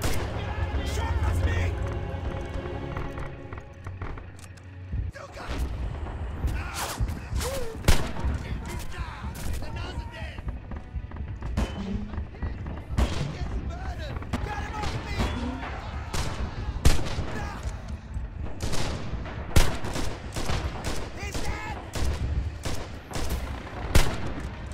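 Constant gunfire in the World War II shooter Red Orchestra 2 multiplayer, sharp rifle cracks and bursts of automatic fire with distant booms throughout, as players shout over the battle.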